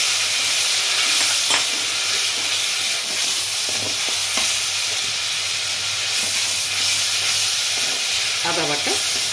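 Onion and garlic paste fries with turmeric and spices in a hot pan, giving a steady loud sizzle and hiss with occasional stirring scrapes. A voice speaks briefly near the end.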